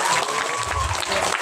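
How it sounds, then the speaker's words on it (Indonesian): An audience at a public Isra Mi'raj religious gathering at an Indonesian Quran boarding school applauds for a girl, producing a dense, steady wash of clapping that fills the whole moment. "Tepuk tangan untuk Mbak Niken."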